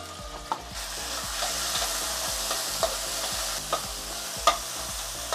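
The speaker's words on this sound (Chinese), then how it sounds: "辅料炒香之后啊，咱放一点大酱" Aromatics and soybean paste stir-fry in a hot wok with a constant sizzle, while a spatula scrapes and taps against the wok at a regular rhythm, close and clear.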